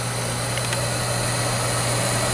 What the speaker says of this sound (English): You can see the furnace is now operating,